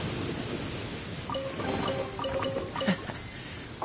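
Steady rain with rumbling thunder in the Genshin Impact video game, a continuous wash of falling water with a few brief chiming game tones layered over it, no one speaking.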